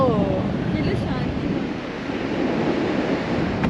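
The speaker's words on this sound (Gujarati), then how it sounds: "કન્ટિન્યુ પવન કન્ટિન્યુ પવન બહુ જ મસ્ત" Steady wind and surf noise by the sea beside the lighthouse at Dwarka, a continuous broadband roar that stays close and fairly loud throughout.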